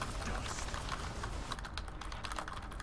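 Rapid clicking on a computer keyboard during a League of Legends match, a dense run of close keystrokes with a busier burst in the second half, over low background hum.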